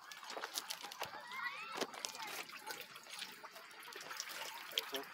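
Water trickles and splashes steadily from a fountain spout nearby, a soft continuous running sound with small drips and gurgles throughout, at a mountain plateau.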